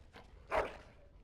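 A dog in the video game Dragon Age Origins gives one short, faint bark with a whimpering edge, alone against quiet background.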